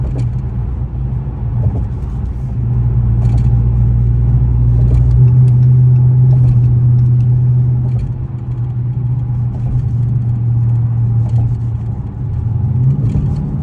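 A 5.7 HEMI car cruising at speed on the highway, heard from inside as a loud, steady engine drone and road rumble, with the engine note rising and easing a few times.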